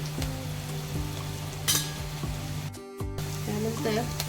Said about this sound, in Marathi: परतवून घेऊया हळद त्यानंतर हिंग